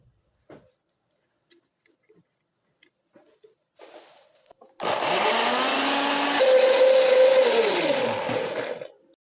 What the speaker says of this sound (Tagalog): Mag-blend tayo ng kamatis.